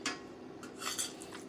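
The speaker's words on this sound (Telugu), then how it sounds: "ఇప్పుడు ప్లేటింగ్ చేసుకుందాం." Clinks of dishes and cutlery while plating a Telugu lunch of white rice, coriander chutney and garlic-pepper rasam, a few light taps and scrapes close by, quiet and brief with no talking.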